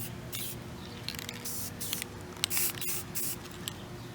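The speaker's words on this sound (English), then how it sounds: "Now I'm spraying underneath with it." Spray paint can hissing in repeated short bursts while coating the underside of a painted mushroom, each burst sharp and close with brief pauses between, plus faint clicks and handling noise.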